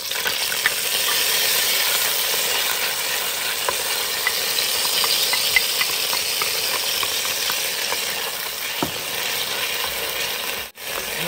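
Epis seasoning and garlic sizzle steadily in a hot pan with a bright, continuous frying hiss, dotted with small pops and a few clinks from stirring. The sizzle cuts out for a moment near the end.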